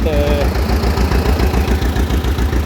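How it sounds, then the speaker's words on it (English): A close, loud car engine with a homemade exhaust made from an old water pipe idles with a rapid, even exhaust pulse, rough and throaty, running steadily throughout. "it has a cool old water pipe for the exhaust, and it's doing pretty loud sound"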